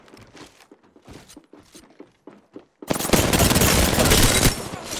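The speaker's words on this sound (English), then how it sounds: "Getting shot at." Dense gunfire erupting in an Apex Legends arena match, loud rapid shots and impacts filling the last two seconds after a stretch of quieter scattered game sounds and footsteps.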